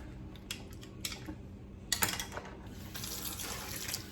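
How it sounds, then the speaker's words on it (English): Kitchen tap running as Italian plum tomatoes are rinsed of their seeds, a steady hiss of water with a few clicks and splashes near the start and a fuller gush toward the end. "And then just rinse out all the seeds."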